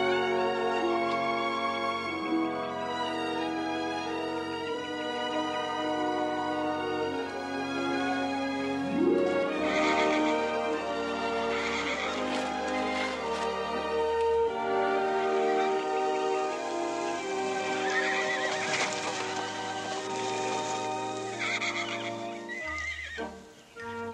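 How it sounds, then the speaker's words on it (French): Horses neigh and whinny in an enclosure on a ranch, a few drawn-out calls rising over a dense, steady musical backdrop that runs the whole time, with faint hoof clip-clop mixed in. "Je vais voir les chevaux dans l'enclos."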